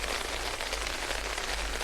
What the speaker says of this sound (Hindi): इस समय दिल्ली में भारी बारिश भी है